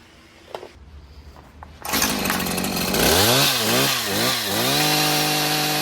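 A gas hedge trimmer with blades moving fast starts with a loud burst after a few quiet clicks. It settles into a harsh, buzzing two-stroke drone close by, with the pitch rising and falling over several short throttle blips and no talking.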